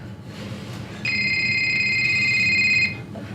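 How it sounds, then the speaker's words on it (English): An old-style telephone rings in a horror play, a sustained bright electric bell tone starting after a moment of quiet room noise and holding for about two seconds before cutting off. "Answer the phone, Sidney."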